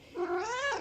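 A ten-year-old female cat gives one drawn-out, rising and falling yowl, close and fairly loud, with no other sounds around it.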